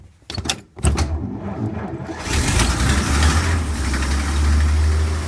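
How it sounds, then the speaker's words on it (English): A 1932 Oldsmobile engine, primed with ether, fires up after a few sputtering cranks and settles into a steady, close, rumbling idle that runs to the end. "And we have ignition."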